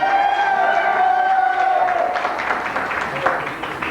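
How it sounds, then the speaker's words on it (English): Audience at a 50th wedding anniversary party applauding and cheering, a dense crowd wash of claps and whoops that swells after a voice trails off at the start. "How about the applause on this side for him?"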